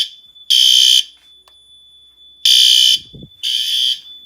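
Fire alarm system sounding during a test, a loud electronic tone in three long blasts with a steady tone running underneath and brief gaps between them.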